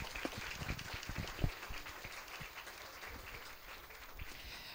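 A crowd in the stands at a homecoming football game claps steadily for the Grand Marshal and his family, the applause fairly distant and even with a few sharper claps standing out.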